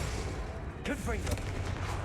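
A Confringo fire spell blasts in Hogwarts Legacy combat, a whooshing cast followed by a booming impact over a steady din of battle, with voices in the mix.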